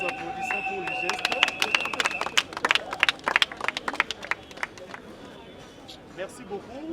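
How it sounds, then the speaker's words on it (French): An audience at a municipal ceremony in Kinshasa claps in a burst of bright, dense applause that builds and then thins out, with crowd voices and speech mixed in. "nous applaudissons pour le geste."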